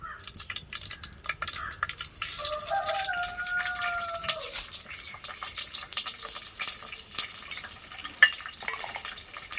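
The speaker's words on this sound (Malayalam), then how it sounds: "കടുകും ഉലുവയും കൂടി ഇട്ട് കൊടുക്കുന്നു." Mustard seeds and fenugreek go into a hot pan of oil over a strong flame in a village kitchen, giving off a steady crackle and sizzle with light popping, close by, while a faint high whistle-like tone drifts in briefly.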